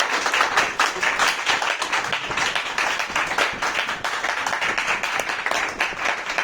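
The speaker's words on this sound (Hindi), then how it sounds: "उनके लिए जबरदस्त ताली होनी चाहिए" An audience at a company achievers' event claps loudly and continuously. The applause is dense and sustained throughout, with many hands close together and no talking over it.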